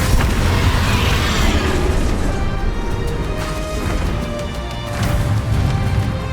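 Confringo and Bombarda spell blasts in Hogwarts Legacy, loud booming explosions with crackling bursts that roll over one another in dense succession amid game battle noise.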